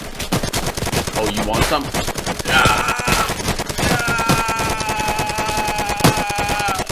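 Rapid bursts of gunfire in the Roblox game Trench Tactics, loud and close, with a sustained rattling stretch and occasional ringing metallic clicks, while someone talks briefly over it.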